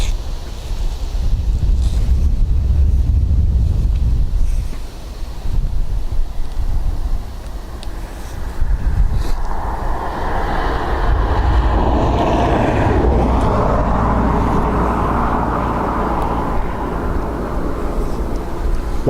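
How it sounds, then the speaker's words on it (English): Boeing 777 jets taxi at Dublin Airport, their engines giving a loud, deep rumbling roar with a pulsing throb that swells and shifts, heard from outdoors amid heavy wind buffeting the microphone. "What I love about these American 777s is the pulsing of the engine as they taxi"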